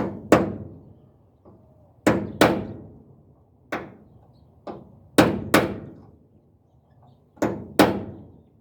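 Sharp metallic hammer blows strike door hinge pins to break them loose, landing close and loud in irregular pairs and singles, about a dozen strikes with short ringing decays between them.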